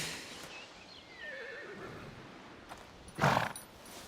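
Horses neigh in the video game A Plague Tale: Requiem, a drawn-out whinny in the middle and a loud, sharp burst near the end, over a steady game ambience, with no talking.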